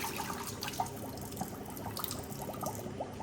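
Water splashes and trickles in quick irregular bursts, like liquid draining out of a pot into a sink, fairly soft and close.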